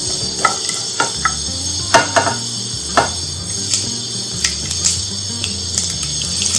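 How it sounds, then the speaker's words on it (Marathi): Mustard seeds and cumin spluttering in hot oil, crackling in irregular sharp pops over a low steady hiss, close up with no voices. "मोहरी तळतळायला लागली आहे."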